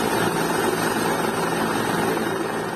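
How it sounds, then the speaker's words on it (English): A helicopter flies overhead during an evacuation from a stadium, its loud steady rotor thrum and engine drone filling the air without pause, with no voices over it. "Dramatic images of chopper reportedly evacuating members of ruling party from"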